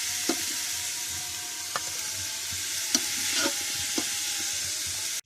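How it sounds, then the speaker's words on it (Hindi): Cauliflower frying in a pan for a Chinese biryani, steady close sizzle with a few sharp spatula taps and stirring clicks spaced through it, no talking. "देखिए हमने इसे 2 मिनट फ्राई किया है। देखिए अच्छी तरह से फ्राई हो गया।"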